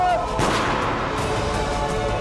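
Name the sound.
gunshots in a TVB drama scene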